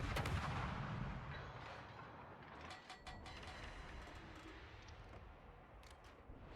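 Warship guns firing in a naval video game, heavy booming salvos at the start trailing into rumbling and clattering mechanical ticks.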